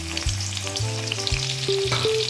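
Chopped onions frying in hot oil in a pan: a steady, close crackling sizzle runs throughout, with low tonal hums layered underneath and no voices.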